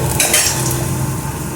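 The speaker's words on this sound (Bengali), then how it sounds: "এটা তো সর্ষে ফোড়ন দিয়ে পেঁয়াজ ভাজা হচ্ছে" Onion frying in hot oil with a mustard seed tempering, a steady close sizzle with stirring and utensil scrapes for a short stretch, no talk.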